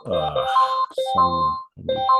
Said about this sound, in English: Beeping, I don't know what it is.